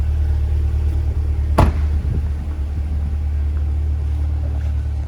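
A 2020 Corvette Z51 with a 490 hp engine and performance exhaust idles with a steady, deep rumble, broken once by a sharp click.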